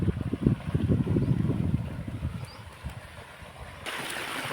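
Water from a pump gushes into an irrigation channel on a cumin farm. It makes a steady, close rushing gurgle that thins out and gives way to a brighter, hissing flow near the end.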